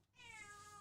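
A cat gives a single short, clear meow close to the microphone, a brief rising call that lasts under a second.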